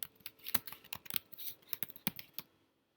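Typing on a computer keyboard while entering a name into a document, a rapid uneven run of crisp close key clicks lasting a few seconds before stopping.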